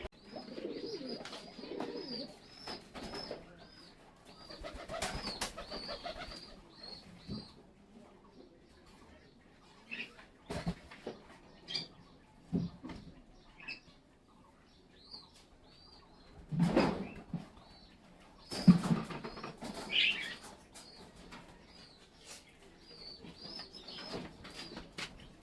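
Pigeons in a farm pigeon house give soft, intermittent coos, with occasional wing flaps and rustling between quiet gaps, fairly faint and close.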